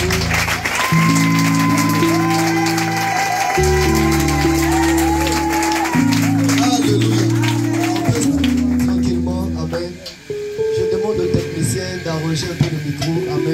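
A church congregation at an evening worship service claps in sustained, loud applause over heavy keyboard chords, with a voice briefly heard near the end.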